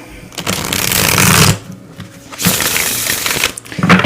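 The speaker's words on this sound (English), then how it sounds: "let's pull some tarot cards associated with this" Tarot cards being shuffled by hand, close and loud, in two dense riffling bursts separated by a short pause, with a third flurry beginning at the end.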